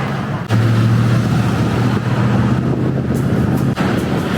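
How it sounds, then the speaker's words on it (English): Continuous road traffic rumble from nearby Highway 101, with passing vehicles, a steady low engine drone and occasional whooshes, moderately loud. "So all this noise you're hearing is the main street that I came in off of."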